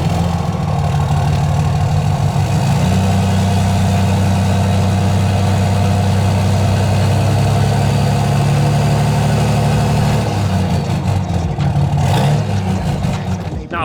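A diesel truck with a 5.9 engine and exhaust stack idles loudly and close, a deep steady rumble lasting the whole stretch, with a slight shift in tone near the end.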